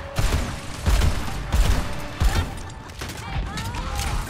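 Bouncy bombs fired in Overwatch 2, a string of about five punchy launches at a steady rhythm over busy game sounds, with some talk in the background.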